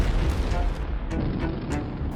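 Cannon fire from Portuguese warships bombarding the port of Jeddah, heard as a dense, continuous rumble with several dull booms and bursts rolling through it.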